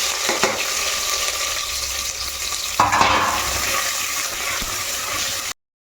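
Sliced onions and four green chillies fry in a pan, a steady crackling sizzle broken by stirring scrapes, with a louder surge of sizzle partway through, and no talking.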